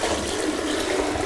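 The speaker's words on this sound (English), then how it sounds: "if I pour a large volume of water down at a quick time, creates a vacuum and it'll suck all the water out of that P-trap" A pail of water is dumped quickly into a toilet drain, a loud, rushing gush that fills the whole short moment without any talk.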